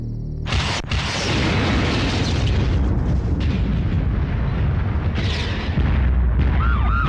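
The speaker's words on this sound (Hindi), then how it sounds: "ट्रांसफार्मर उड़ा।" An electrical transformer explodes in an action movie scene with a heavy booming blast and sustained roaring, crackling rumble. A second burst follows near the end, loud and close with a dense low-end.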